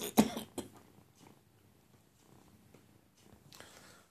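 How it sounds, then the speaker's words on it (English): A pet cat purring close by, a soft low rumble running through the clip after a couple of sharp coughlike bursts near the start, with no talking. "You can hear him purring."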